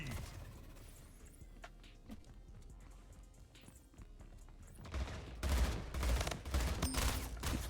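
Gunfire in a video game shooter match: scattered, fainter shots and movement at first, then dense rapid bursts of shooting over the last few seconds.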